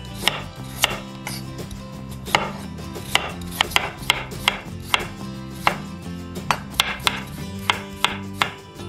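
A knife slices potatoes into thin flat pieces on a cutting board, giving sharp, close chopping taps in a fairly regular rhythm, about one or two per second.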